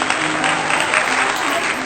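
Thunderous applause filling a hall for a 45-year-old business tycoon at a podium, a dense, continuous roar of clapping from a large crowd, loud and even throughout the short stretch, with a voice faintly underneath.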